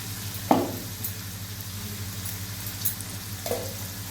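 Ginger, garlic, onion and green chili paste frying over low heat in a pan for an egg curry, with a steady close sizzle and two sharper scrapes of stirring, and no talking.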